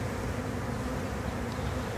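Honey bees from a nuc colony being installed into a hive make a steady, dense buzzing drone that fills the whole stretch evenly, close by and continuous.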